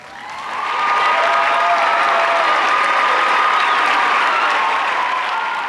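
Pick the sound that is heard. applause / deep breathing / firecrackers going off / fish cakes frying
applause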